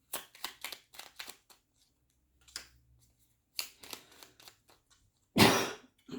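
Bursts of cards riffling and snapping close up, several quick flurries separated by pauses, ending in a louder rush of shuffling.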